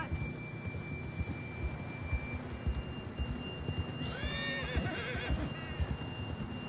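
A horse whinnies in the Western video game Red Dead Redemption 2, a rising cry standing out against steady hoof clops and a low game hum, close and fairly loud, with a faint tone sustained behind it.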